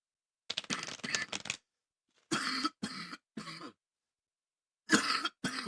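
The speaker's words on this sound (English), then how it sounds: "I apologize for coughing on camera." Several harsh coughs in quick bursts, close and loud, with short pauses between them and no talking.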